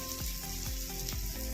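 Spiced water poured into a hot pan of potato, cauliflower and tomato curry, giving a steady close hiss and sizzle with a few soft stirring scrapes.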